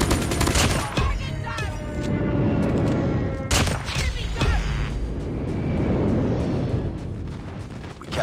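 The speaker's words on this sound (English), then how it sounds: "Friendly airstrike incoming." Airstrike explosions in the mobile shooter Call of Duty Mobile boom in a loud barrage, several heavy blasts with rumbling, crackling tails layered over continuous battle noise.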